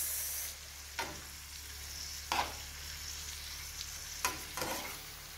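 Chicken breast fries in a pan over onion, a steady close sizzle running throughout with several short scraping stir strokes breaking through at intervals; no one speaks.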